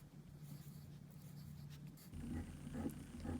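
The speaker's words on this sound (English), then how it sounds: "And I'm just gonna write mostly" Pencil or pen scratching across a paper worksheet while sketching rounded forms, a soft steady scribbling under low room hum, growing a bit louder and busier in the second half.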